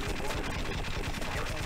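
Rapid gunfire in the online multiplayer game Half-Life, with quick bursts of shots crackling continuously through the short moment, mixed with a voice in the background.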